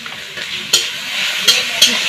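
A potato filling seasoned with salt and turmeric fries in a pan while it is stirred, giving a steady close sizzle broken by a few sharp scraping strokes.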